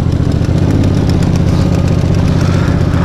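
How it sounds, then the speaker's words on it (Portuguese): Fred's motorcycle idling close by, a loud, steady, rapidly pulsing engine rumble that holds even throughout with no voices over it. "Aí, galera, essa é a moto do Fred."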